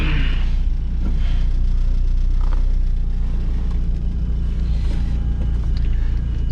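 Mazda Miata NA with a Tomei 2-way limited-slip differential, driven from the cabin. Heavy, steady low engine and road rumble fills the recording at close range. Brief higher whines rise and fall over it, and no one talks.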